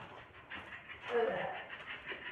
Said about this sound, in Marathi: हा कुत्र्याला कोणी कोंडून ठेवलेला.